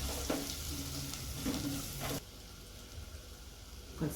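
Tomato pieces with chilli powder, turmeric and coriander powder cooking in a pan for rajma curry, a soft, close, steady sizzle with a few light stirring scrapes, dropping quieter partway through.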